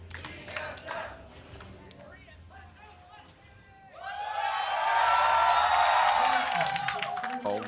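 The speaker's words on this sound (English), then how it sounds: "Hometown crowds for both here trying to cheer each other on" Hometown esports crowd at a 2019 LCS Regional Qualifier League of Legends match between TSM and Clutch Gaming, swelling into loud sustained cheering and roaring beneath a commentator's talk, growing louder over the second half.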